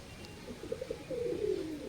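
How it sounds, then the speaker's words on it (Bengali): Domestic flying pigeons coo softly in a home loft, a few short low notes followed by a longer rolling coo, heard close and alone. "কবুতরগুলো উড়ানো হয় সেই কবুতরগুলো আপনাদেরকে দেখানো হচ্ছে"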